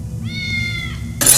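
A cat meows once in a film scene, a single clear drawn-out call against a quiet low background, followed by a sudden burst of noise.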